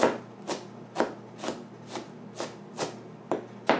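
Knife chopping through wild game chili ingredients on a board, eight steady, evenly spaced strikes about half a second apart, close and crisp with no voices.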